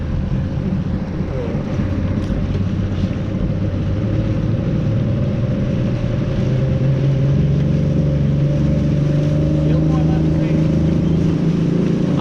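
A motorboat engine drones steadily at idle speed, loud and close, with wind buffeting and speech underneath.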